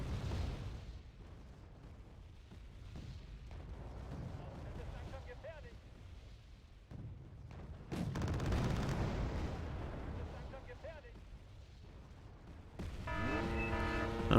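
Artillery bombardment in the video game Wargame Red Dragon, with scattered distant booms and bursts over a low rumble and a louder cluster of blasts partway through, under quiet battlefield noise.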